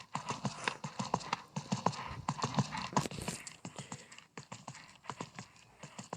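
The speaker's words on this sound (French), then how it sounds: "Donc là on fait un tour de carrière et dès que je vois un petit vertico j'irai le sauter au trot." Horse hooves trot around a sand riding arena in a steady, close clip-clop rhythm during a morning ride, with no voices over the footfalls.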